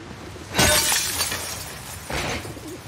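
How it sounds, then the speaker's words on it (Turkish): Glass smashed with a sledgehammer in The Last of Us Part II: a loud, sharp shatter rings out with crumbling shards, then a second, weaker breaking burst follows about a second and a half later. "O balyozla cam kırdık"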